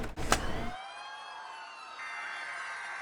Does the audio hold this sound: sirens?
yes